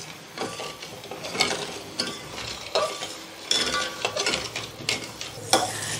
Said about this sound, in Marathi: आता याला जोपर्यंत उकळी येत नाही तोपर्यंत एकसारखं हलवत राहायचं आहे।